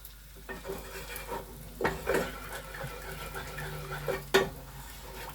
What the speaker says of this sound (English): Just going to add a little bit of milk, stir it until all these lumps are gone.